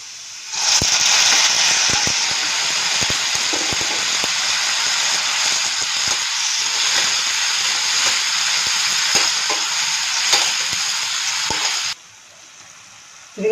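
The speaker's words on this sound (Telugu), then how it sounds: "ఇదిగండి వేగినవి టమాటాలు వేసుకున్నాం" Tomatoes frying in a pan for a dry fish curry give a loud, steady hiss with crackling pops and occasional stirring knocks, then the sizzle drops away abruptly near the end.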